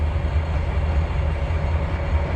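A train rumbling steadily along the track in the Trainz 2022 railroad simulator, a loud, continuous low-pitched drone with no talking.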